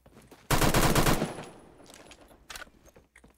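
A rapid burst of automatic gunfire from a gun in the shooter game Phantom Forces rings out loud and close for about a second, then tails off into fainter scattered shots and clatter.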